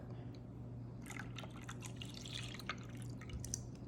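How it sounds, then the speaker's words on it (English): Half and half pours and drips into a bowl of cracked eggs, a quiet, close liquid trickle with light splashing over a low steady hum. "we're gonna be adding a cup and a half of half and half"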